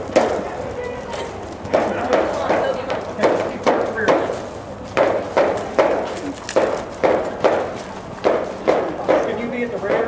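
Several horses walking in a group ride, hooves clip-clopping in a steady, fairly close rhythm of distinct thuds, with people talking intermittently over the steps.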